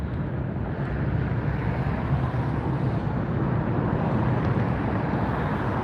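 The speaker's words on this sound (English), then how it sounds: "Air France 777 taxiing up now." An Air France Boeing 777 taxis at Los Angeles airport, a steady broad engine rumble and whine heard at a distance outdoors, constant in level and mixed with wind buffeting on the microphone, no talking.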